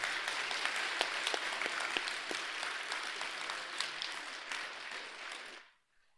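An audience at an award ceremony gives a long round of dense applause that keeps an even level before fading out to silence near the end.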